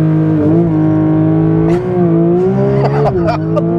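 A Porsche 911 GT3 Touring with a 4-litre engine accelerates hard, its strong, steady engine note rising and dipping through gear changes. Short crackles and transient bursts punctuate the drone, and the sound stays close and loud.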